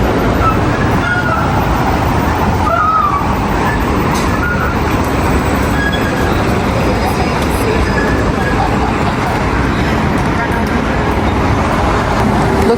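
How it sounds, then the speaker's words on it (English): Busy road traffic in Sydney rolls past as a continuous, fairly loud roadway wash with passing vehicles, and voices murmur faintly underneath. "Look at the traffic, you guys."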